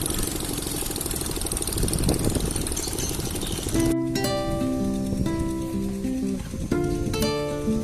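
An unusually shaped motor boat on the Mahakam River gives off a steady, close engine drone. About halfway through, loud tonal music takes over and the engine sinks beneath it.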